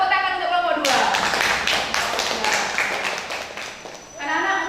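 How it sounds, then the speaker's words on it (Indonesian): Classroom clapping for a student group, a burst of many hands clapping together for about three seconds, framed by a teacher's voice talking before and after. "Tepuk tangan untuk kelompok 2."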